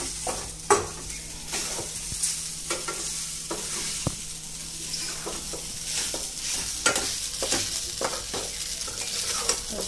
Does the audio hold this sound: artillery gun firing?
no